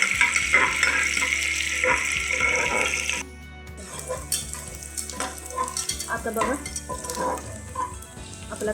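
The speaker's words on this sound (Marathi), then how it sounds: "कांदा भाजत आला आहे आपण थोडासा गुलाबी होईपर्यंत भाजून घेऊया" Chopped onion sizzles steadily in hot oil in a pan for Kolhapuri mutton, loud and close, with a sudden drop partway through followed by scraping stirs and clatter as the frying resumes.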